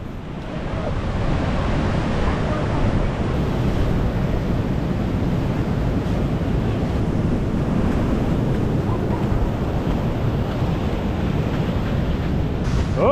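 Ocean waves roll in steadily on Third Beach along the Olympic Coast, a loud, continuous roar of surf mixed with heavy wind buffeting the microphone, with no voices.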